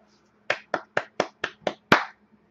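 A single person claps seven sharp, evenly spaced times in quick succession, close and dry against a quiet background, the last clap slightly louder.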